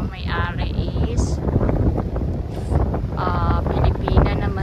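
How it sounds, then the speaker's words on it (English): Wind gusting across a beach on Jintotolo Island, Masbate, in the Philippines, buffeting the microphone in a steady, rough roar for the whole stretch, with brief voices and faint boat sounds mixed in. "It's a bit windy today."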